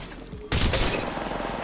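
Gunfire in a video game shootout breaks in abruptly as a dense, sustained rattle of close shots that fills the rest of the moment, loud and continuous.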